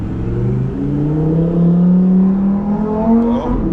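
Lamborghini Huracan engine accelerating hard, a loud close roar that climbs steadily in pitch through the gears without a break, with no talk over it.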